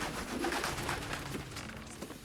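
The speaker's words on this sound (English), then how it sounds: "I can hear the pigeons outside" Pigeons coo softly outside, low, faint throaty calls repeating over a steady background hum.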